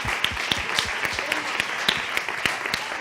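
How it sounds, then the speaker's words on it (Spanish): An audience at the closing event of a culinary entrepreneurs' forum applauds the team, with a thick wash of clapping punctuated by sharp, regularly spaced hand claps, close and fairly loud throughout. "Un aplauso a todo el equipo."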